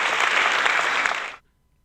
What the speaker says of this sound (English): at the moment we're getting applause when we put up the phone number